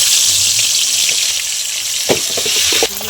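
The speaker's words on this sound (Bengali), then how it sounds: "এখানে মাছগুলো আমি ভেজে নিচ্ছি।" Sarputi fish fry in very hot oil with a loud, dense, unbroken sizzle, close by, with a few faint utensil knocks near the end.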